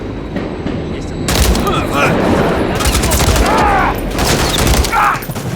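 Dense automatic gunfire in Call of Duty Modern Warfare 3, loud and sustained over several seconds with sharp bursts, mixed with game voices talking.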